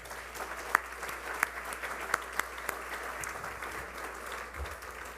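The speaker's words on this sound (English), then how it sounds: "Let's give them another round of applause." A banquet-hall audience applauds at the NC Community Colleges awards dinner in Raleigh: a steady, fairly distant patter of many hands clapping, with a few sharper claps standing out.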